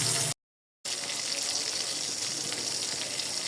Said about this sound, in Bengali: তেলটাও গরম হয়ে এসেছে, এখন মাছগুলো ভাজতে দিয়ে দেব। তো মাছগুলো ভাজতে বসিয়ে দিলাম।